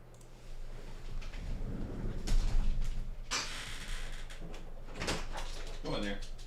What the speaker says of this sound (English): Let me open the door up.